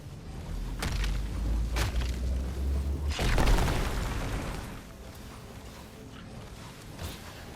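Rock explosion in the game RuneScape: Dragonwilds: a deep booming burst with crackling debris, preceded by a couple of sharp pops, then a rumbling tail that fades into quieter ambience.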